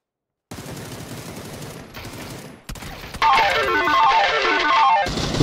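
Continuous automatic gunfire in a shooter video game, starting abruptly after a silence, with brief breaks between bursts and a louder, denser final stretch, with no talk.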